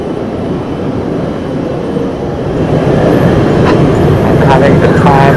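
A small miniature train runs inside an indoor amusement park mall, a steady low rumble that grows louder partway through, with faint clatter and a voice speaking briefly over it.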